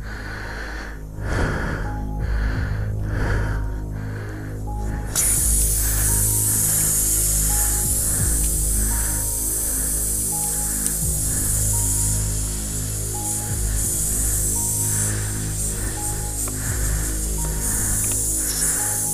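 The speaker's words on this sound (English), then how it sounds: "you can still hear the air coming out" Steady broadband hiss of air escaping from a damaged Harley motorcycle's tire, continuous and fairly loud after a brief quieter start, with faint repeated ticks underneath and no talking.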